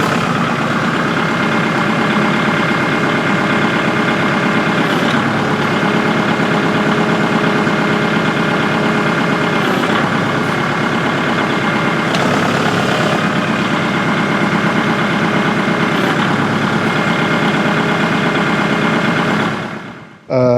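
Kubota tractor engine idling steadily and loudly at close range while a newly installed hydraulic top link is tested, a constant rumbling drone that cuts off abruptly at the end.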